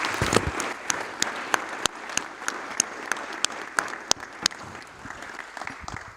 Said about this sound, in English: please join me to give a round of applause to our fellow participants